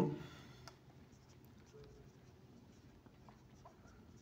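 Marker or chalk scratches across a board in a classroom physics lecture, soft and intermittent strokes close by over a quiet room hiss, with no talking.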